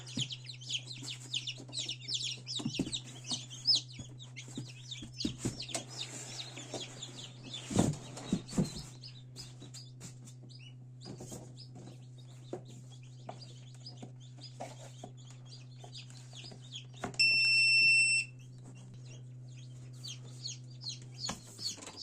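Soft, rapid cheeping of many newly hatched chicks inside an incubator continues throughout, with a steady low hum underneath and a brief electronic beep partway through.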